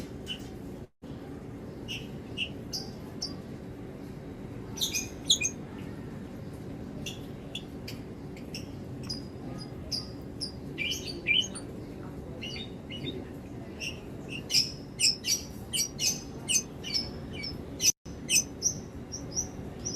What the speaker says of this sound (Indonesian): jalak suren dengan nama latin Gachupica contra yang kami rekam suaranya